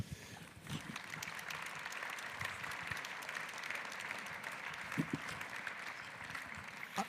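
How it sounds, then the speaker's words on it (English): Audience applause at a talk by author David Grossman, a steady, moderately faint patter of many hands clapping that carries on for several seconds. "Somehow only women are clapping."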